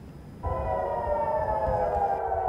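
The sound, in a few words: air raid sirens sounding in Israeli cities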